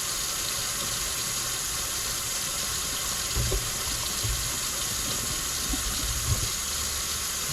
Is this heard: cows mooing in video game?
no